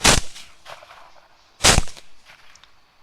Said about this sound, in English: I try some ambush shooting